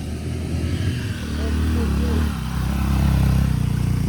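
A motorcycle engine labors loudly at high throttle while climbing a steep road, its pitch rising and the roar swelling toward the end, close and continuous.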